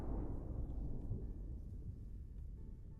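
Rain and thunder ambience in a video game, a low continuous rumble with soft hiss of rainfall, steady and fairly quiet with no voices.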